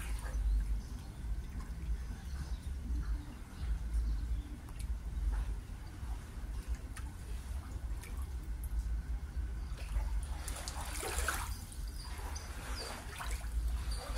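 Soft, steady wash of lake water lapping at a shore, with faint splashes and a low rumble underneath, quiet and continuous without speech.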